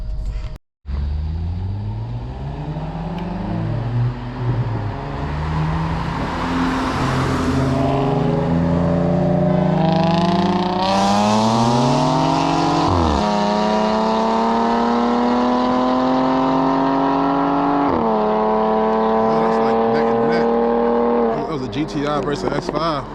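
A BMW X5 pulls hard in a night street race in Mexico against other cars, the engine roaring close and loud as it climbs through the revs with several gear shifts, a steady droning run with a voice talking over it.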